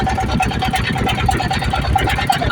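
Motorboat engine running steadily on a big river in Bangladesh, a loud continuous low chugging drone with rhythmic pulsing throughout, close and unbroken.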